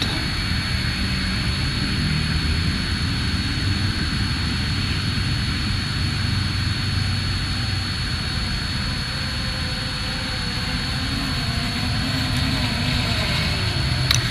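A DJI Mavic 2 Pro drone flies toward the camera, giving a steady high-pitched whine with broad rushing noise that holds evenly for the whole stretch, moderately loud and without speech.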